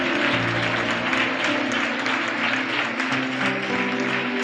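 A church congregation claps steadily through a Christmas service, with dense hand clapping over a low background of organ-like tones.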